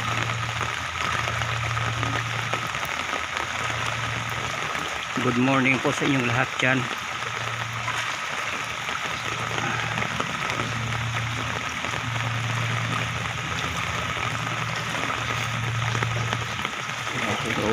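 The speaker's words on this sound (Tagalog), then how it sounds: "Medyo lumalakas na po yung ulan." Heavy rain keeps pouring on surfaces near a flooding street, a dense unbroken hiss with a pulsing low hum underneath, and a voice speaks briefly partway through.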